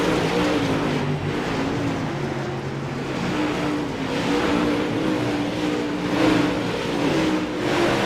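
Modified race cars roar around the Eldora dirt track, a steady loud drone of engines with revs swelling and fading as cars pass through the turns, continuing without a break.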